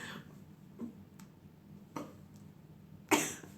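A few scattered short coughs and throat sounds, the last one louder and sharper, close by with quiet gaps between.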